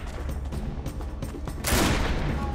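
Musket shot in the Risen 2 video game: a sudden loud broadband blast about two-thirds of the way in, ringing out over steady game ambience and scattered action noise.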